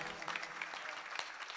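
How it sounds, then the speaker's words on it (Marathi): An audience at a village kirtan claps in a brisk, continuous patter, quiet and somewhat distant, with no other sound standing out. "टाळी वाजवा टाळी वाजवा"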